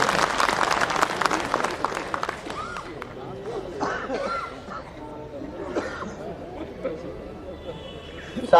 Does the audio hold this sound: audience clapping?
yes